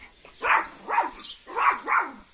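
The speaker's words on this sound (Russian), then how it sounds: "Ну что тут гавкать?" A small dog barks four times in two quick pairs, close and fairly loud, outdoors in a garden.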